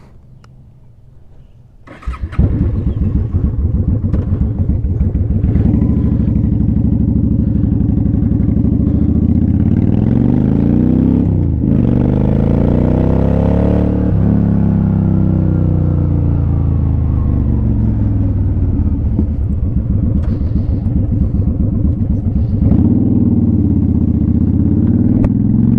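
Harley-Davidson motorcycle starting and riding on a long road trip: a quiet lull, then the engine fires and settles into a steady, loud, close rumble, with throttle and gear changes rising and falling.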